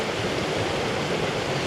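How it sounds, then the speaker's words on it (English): A creek on rural California land flows steadily, a dense, even rush of water heard close and continuous with no voices. "This is a nice creek, man."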